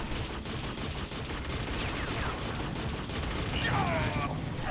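Bio rifle goo gun from Unreal Tournament firing amid continuous dense game-combat noise, with a couple of squelchy swooping launches standing out over the busy background.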